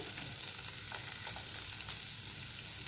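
Chickpeas fry in hot oil in a pan, giving a steady, close crackling sizzle with a few soft stirring scrapes.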